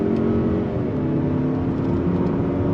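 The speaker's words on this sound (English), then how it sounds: "let's go on throttle again from a dead stop. On throttle, here we go." A 2022 Mazda 3 Turbo hatchback pulls away hard from a dead stop, the engine note droning steadily and rising under throttle, heard from inside the cabin as a continuous loud hum.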